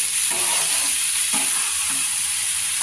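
Chicken curry with potatoes being stirred and fried in a pan, a steady close sizzle with scraping stir strokes recurring every second or so, no talk.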